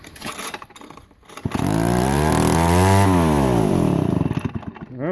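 A Sears David Bradley 758D chainsaw engine sputters, then catches and runs loud and steady near at hand, its pitch swelling and easing as the throttle rises and falls, with brief knocking before it fires.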